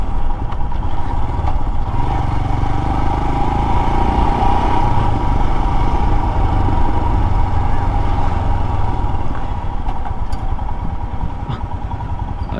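A Royal Enfield Himalayan BS6 motorcycle engine runs steadily, with a loud, close, continuous thumping drone and some mechanical clatter throughout.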